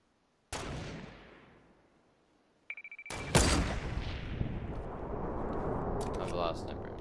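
A sniper rifle fires in a Fortnite Battle Royale match: one sharp, loud crack that decays over about two seconds, then a second blast followed by sustained dense game noise and a brief electronic chime.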